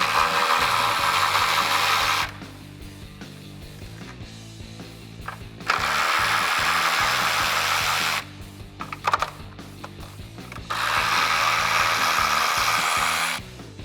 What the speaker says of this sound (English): I'm going to take my 13mm socket on my ratchet, and I'm going to remove the 3 top strut nuts on the top of the strut towers